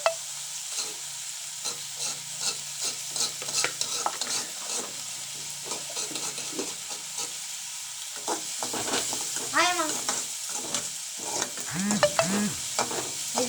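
Egg rice sizzles steadily in a pan while a spoon scrapes and stirs it in repeated strokes, close and clear, with a few faint voices and clatters in the background.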